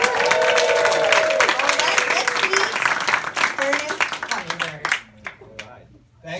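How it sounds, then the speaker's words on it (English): An audience at an Ernest Hummingbird event with several guests bursts into loud, close applause with a few high cheers and whoops, then thins out and fades as voices talk over it. "we're all gonna give them a round of applause and maybe a little scream"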